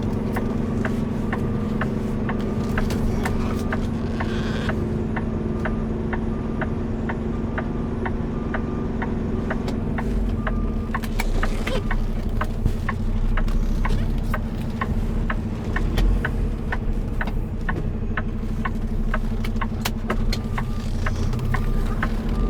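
Several trucks sit idling while queued to unload, a steady low engine drone running throughout, with a faint rapid ticking and a slight swell in rumble partway through.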